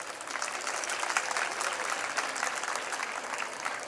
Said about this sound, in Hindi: मैं चाहता हूँ कि इस बारे में आप जो है उनका तालियां बजा के सम्मान करें।